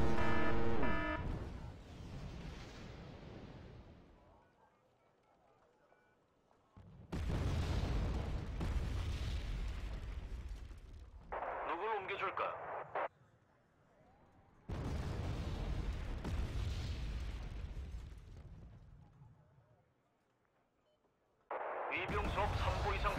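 Artillery bombardment in the Wargame Red Dragon strategy game, heavy booming shell blasts and rumbling impacts arriving in long rolling bursts separated by near-silent gaps, loud and close, with voices speaking at points between the barrages.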